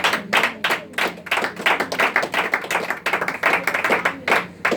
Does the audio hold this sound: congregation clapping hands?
yes